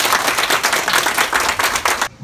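Audience at an opening and plaque-unveiling ceremony applauding to welcome a guest official, close, loud rapid clapping in rhythmic waves that stops abruptly at the end.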